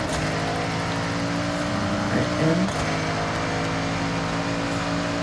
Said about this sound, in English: I do actually like how you can't engine swap it because the V8 sounds so good